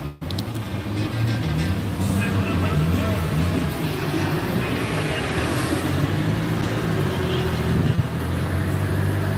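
A car running hard on an outdoor dyno at an event, a loud continuous engine drone holding fairly steady throughout, with crowd and outdoor noise mixed in.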